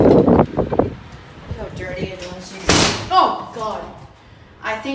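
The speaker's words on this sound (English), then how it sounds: "I think that broke the glass." A door slams with a sharp impact and a burst of noisy crash in the middle, heard in a dark, dingy parking garage at the White Plains Metro North station, with scattered thumps and voices talking around it.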